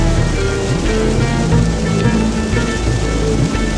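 The Sutlej river rushes beside a Himalayan mountain road, a loud, steady roar of turbulent water crashing over rocks, dense and continuous with no voices.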